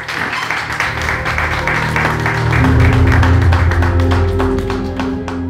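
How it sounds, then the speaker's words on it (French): An audience at an entrepreneurship masterclass applauds a speaker presenting his book, loud steady clapping with crisp individual claps, swelling slightly mid-clip and tapering near the end. "Sous vos applaudissements, s'il vous plaît."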